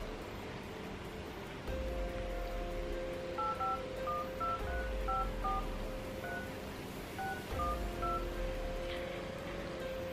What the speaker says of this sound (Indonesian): Langsung aja kita bakal hubungin nomornya guys ya